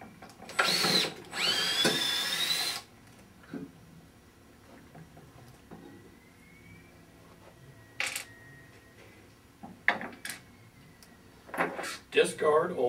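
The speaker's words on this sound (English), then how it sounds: "Remove motor plate. You'll need a 3/8 inch nut driver." A 3/8 inch nut driver works loose the plate of a vibratory motor on a Model 150/200 unit, with a few short bursts of whirring tool noise, metallic clicks and clatter between quiet gaps and brief speech.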